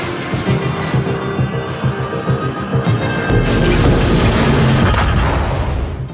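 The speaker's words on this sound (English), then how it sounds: "We improved the sound of shells hitting ships and the landscape" Naval shells striking ships and terrain in World of Warships, heard as a run of deep booming impacts and rumbling blasts, growing into a heavier, sustained roar in the second half, loud and close with no talk.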